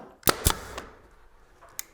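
A 23 gauge pin nailer driving headless pins into door-transom trim gives two sharp close snaps in quick succession, then a fainter third and a later single snap.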